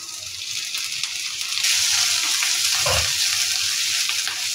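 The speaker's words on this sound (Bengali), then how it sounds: "তো চিংড়িগুলোকেও আমি এখন ভেজে নেব।" Shrimp drop into a hot pan and fry, and a loud, wet sizzle quickly rises and holds steady. A brief low clunk sounds partway through, and no one speaks.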